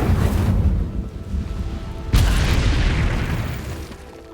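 The Incendio fire spell goes off in Hogwarts Legacy with a deep, rumbling whoosh and then a sudden sharp burst midway that swells and slowly fades.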